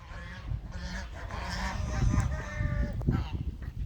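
Geese honk repeatedly in a noisy flurry of overlapping calls, close by, with a low rumble of movement underneath.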